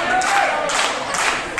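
A Las Vegas wrestling arena crowd roars steadily during the Jon Moxley vs. Karrion Kross match, with cheering swelling in waves under faint commentary.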